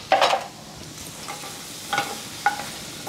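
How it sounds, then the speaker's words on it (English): Eggs frying in a skillet with a soft background sizzle, broken by a few short scraping clatters of a spatula working under and flipping them, close and fairly quiet. "I'm back again, y'all, flipping with my spatula."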